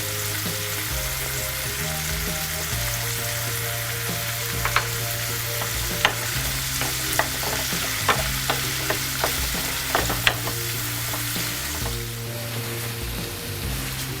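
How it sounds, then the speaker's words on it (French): Shrimp sauté in a pan with garlic and pepper, giving off a continuous close sizzle with occasional sharp pops and light clinks over low background music. "une idée de présentation pour les crevettes sautées à l'ail au poivre"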